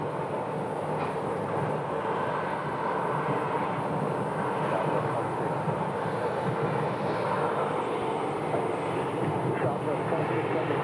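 An airliner departs runway 25 right at Phoenix Sky Harbor with a steady, broad jet-engine roar that holds at an even loudness throughout, while air-traffic radio chatter and voices run over it.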